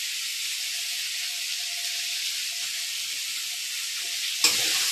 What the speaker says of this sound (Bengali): দেন তারপর আবার ভালো করে নেড়ে নেবো।